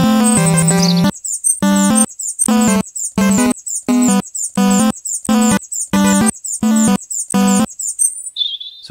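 A chirping bird sound effect plays in a program, first as a longer call, then as a string of about a dozen short, evenly spaced tweeting bursts with brief silences between them. The chirps are clear and loud.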